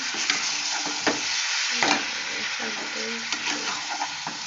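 Washed chicken pieces sizzle and fry in a hot pan, a steady broadband hiss broken by scraping, clattering stirs at close range, with no talking.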